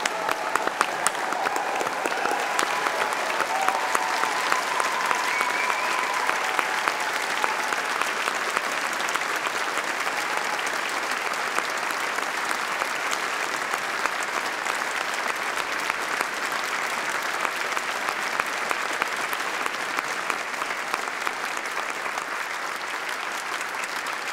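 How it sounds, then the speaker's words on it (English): Graduation ceremony audience giving a long, sustained round of applause in a large hall, dense and even clapping that continues without a break, with faint crowd murmur beneath. "join me in a final applause for all of those whose achievements we are recognising today"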